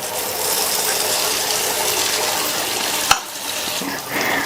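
Appam batter fries in hot oil in a kadai over a medium flame, giving a dense, even sizzle close up, broken by a sharp clack and then a brief dip before the hiss resumes.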